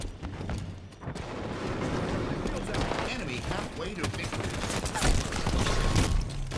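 Gunfire and combat in the video game Halo 5, a dense, loud continuous mix of shots and impacts under people talking over the action.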